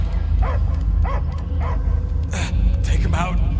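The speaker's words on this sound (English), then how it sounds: "I hear only barking." A dog in the Guardians of the Galaxy video game gives a series of evenly spaced barks and yips, loud and close, with a voice speaking over the later barks.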